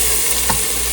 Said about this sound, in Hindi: अब इसमें ये दाल डाल देंगे, इसका पानी निकाल के